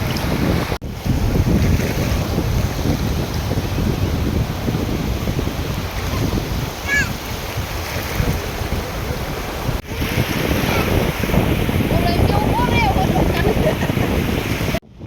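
Sea surf at Koliyak beach by the Nishkalank Mahadev shore temple rolls in as a continuous broad roar mixed with heavy wind buffeting on the microphone, with faint voices in the background.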